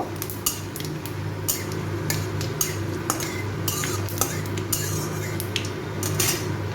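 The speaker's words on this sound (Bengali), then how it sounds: "একটা শুকনো লঙ্কা, একটা তেজপাতা আর সামান্য একটু পাঁচফোড়ন দেব। এগুলোকে একটু ভেজে নেব।" Dried red chilli, a bay leaf and panch phoron fry in oil in a pan, with a steady low sizzle under repeated metal clinks and scrapes of a utensil stirring against the pan.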